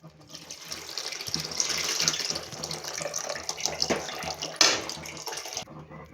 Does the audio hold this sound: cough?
no